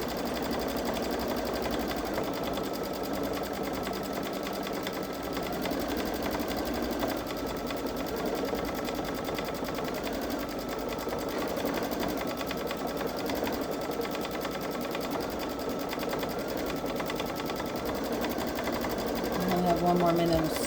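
Baby Lock Solaris Vision sewing machine running steadily while stitching an edge-to-edge quilting design, a continuous near motor hum with fast needle chatter holding throughout.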